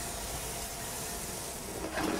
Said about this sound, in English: And now I'm just going to add my white wine.